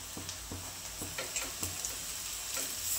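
Ginger garlic paste frying with sautéed onions in a pan for Dhaba-style egg masala: a steady, close sizzle with regular ticking taps of a spoon stirring.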